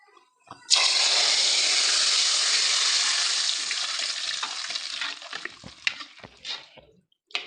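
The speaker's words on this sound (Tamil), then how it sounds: "இப்போ நம்ம இப்படி ஊற்றி அங்கே அங்கே இருக்கிற ஆயிலையும் சேர்த்து உள்ள வடிச்சுக்கலாம்" Oil from a frying pan is poured into an eggplant curry and drained: a loud, steady sizzle bursts in, then fades over several seconds and gives way to scattered pan clinks and knocks.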